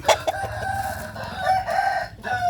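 A fighting cock crows several times close by, strained calls with clucking bursts between them, loud and fairly continuous with no talk over it.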